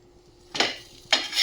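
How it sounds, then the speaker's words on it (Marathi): A veg cheese sandwich is flipped in a pan with two quick metallic scrapes of a spatula against the pan, separated by a short pause. "आता एक साईड छान व्यवस्थित भाजून झाली की आपण पलटवून घेऊयात"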